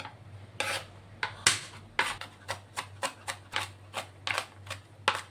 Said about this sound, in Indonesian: kalau bawang putih ini saya mau cincang ya